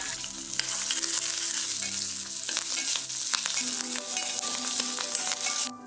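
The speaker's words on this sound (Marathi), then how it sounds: "आता हे छान असं परतून घेऊयात." Green chili, garlic, fresh coconut, curry leaves and coriander sautéing in a pan for neer dosa chutney, a steady close sizzle and fry with occasional stirring scrapes, alone without talk.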